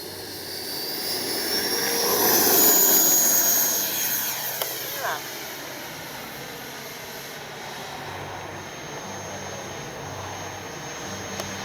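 An E-flite 90mm Viper RC jet climbs straight up after takeoff from a runway, its ducted-fan whine swelling loud then fading into a steady distant drone.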